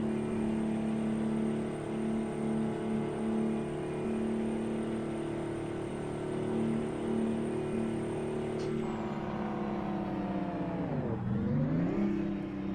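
A custom Peterbilt truck engine in American Truck Simulator: a steady, deep, droning engine tone at cruising speed with a high whine over it, then a brief dip and rise in pitch near the end as the engine slows and revs back up.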